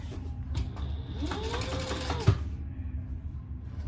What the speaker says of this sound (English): we're going to top stitch on the bottom piece right there